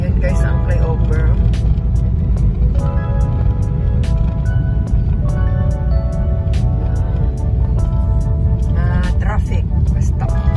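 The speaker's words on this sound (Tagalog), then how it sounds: "Traffic basta." Heavy road traffic rumbles near a flyover by a street corner where container vans pass, a loud continuous engine drone with honking horns and someone speaking over it.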